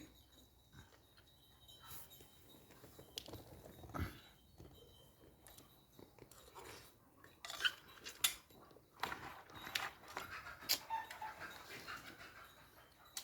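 A dog eating rice from a dish, with wet chewing and lapping, soft panting and clinks against the bowl that come in irregular bursts, quiet and close.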